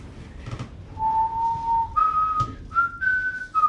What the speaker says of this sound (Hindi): कुछ नहीं करने पर सीटी क्यों बजा रहे हो?